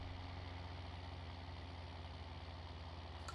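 John Deere tractor engine in Farming Simulator 19, a steady low diesel rumble idling or running evenly throughout, fairly quiet and with no voices.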